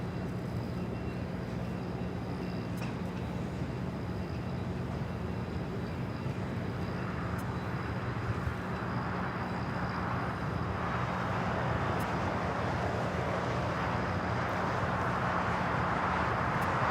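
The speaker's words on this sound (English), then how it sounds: "Japan Airlines A350 1000" A Japan Airlines Airbus A350-1000 jet at Los Angeles airport gives a steady, broad engine roar that builds gradually in the higher range over about seventeen seconds, with a constant low hum beneath and no talk.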